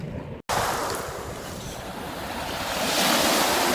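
Waves lap and wash steadily along the Thames foreshore, close and loud with wind buffeting the microphone, the surf swelling toward the end after a brief cut near the start.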